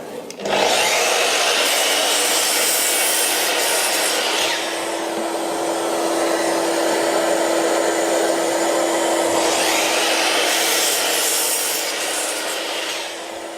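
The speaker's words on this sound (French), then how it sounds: "Je coupe mes deux voliges." A saw cutting through two thin wooden boards for a birdhouse, a loud close rasping run of strokes that pauses briefly midway before the second cut continues.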